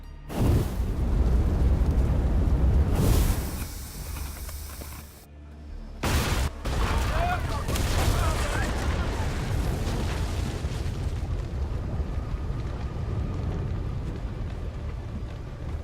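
Ship cannons fire on command in Assassin's Creed Odyssey, heavy booming blasts at the start followed by a second burst and a long rumbling tail, with battle noise trailing off.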